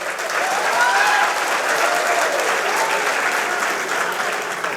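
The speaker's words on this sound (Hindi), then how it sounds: "नौजवानों जरा पुरजोर तालियों से इस जश्न का इस्तकबाल किया जाए" Sustained applause from a mushaira audience greets the celebration, a broad, steady wash of clapping filling the hall for several seconds.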